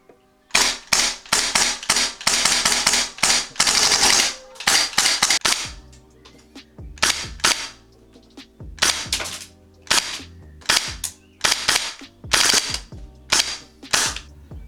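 A GHK AUG gas blowback airsoft rifle fires in loud, snappy bursts and quick strings of single shots, each crack sharp and close, separated by short pauses.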